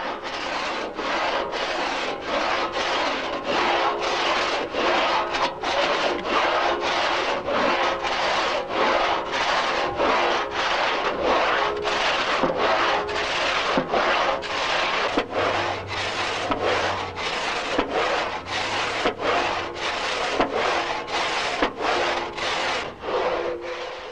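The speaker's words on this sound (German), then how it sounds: "Da die Dielsäge so eingerichtet ist, dass sie nur bei den Abwärtsbewegungen schneidet" A two-man pit saw cutting timber at a saw pit, cutting only on the down stroke, rasping in a steady rhythm of about one stroke a second, loud and close throughout with no voices.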